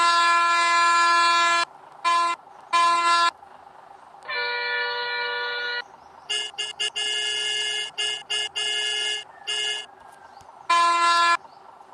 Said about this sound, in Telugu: చూడండి హారన్స్ ఎంత బాగుంది.